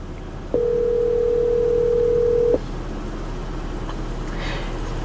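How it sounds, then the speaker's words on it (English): An outgoing phone call through a Lexus GS car's CarPlay system sounds a single steady two-second ringback tone over low cabin hum, then the line goes quiet. "I'll give a phone call now."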